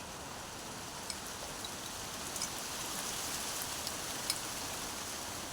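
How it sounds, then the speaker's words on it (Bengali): Rain falls outside a house in a steady, even hiss that holds for the whole stretch, with a few faint louder drops standing out now and then and no voices. "দেখলেন কি বৃষ্টি হচ্ছে"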